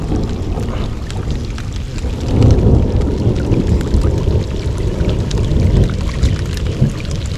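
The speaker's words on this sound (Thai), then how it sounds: "ฝนตกอีกแล้วครับผม" Heavy rain pours down steadily beside a flooded rice-field dike, with low rumbles of thunder rolling beneath the dense hiss of the downpour throughout.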